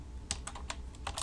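Keys tapped on a computer keyboard while entering HTML form code, a handful of distinct clicks in about a second, close and fairly quiet over a low background hum, with no talking.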